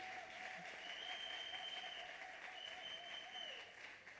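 A church congregation applauds the Holy Spirit, a steady wash of clapping from many hands, fairly distant and continuous throughout.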